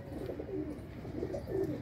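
Pigeons coo in low, rolling, repeated phrases, fairly close and steady, with no talking.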